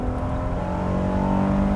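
A 2022 Honda Pilot TrailSport engine revs up into VTEC, a loud, steady, close drone that climbs slightly in pitch, with no talking.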